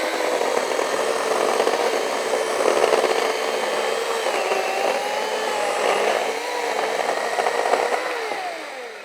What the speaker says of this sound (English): Now as for the chainsaw, definitely not the most powerful that I've ever felt